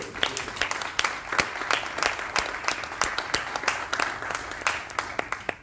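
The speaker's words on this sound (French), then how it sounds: "On peut les applaudir" Applause at a town council meeting in Cournon d'Auvergne, a thinner scattering of individual claps from a modest room, moderately loud and continuous with distinct sharp hand strikes.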